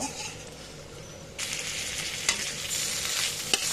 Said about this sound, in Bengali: এটা এখন এই তেলে কুচির তেলে আমি এটা ভালো করে ভেজে নেব